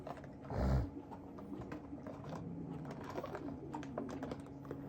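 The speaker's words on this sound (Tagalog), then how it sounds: "mga kalapati doon" Pigeons coo softly nearby, one low throaty coo standing out early, with faint rustling and calls in a quiet background.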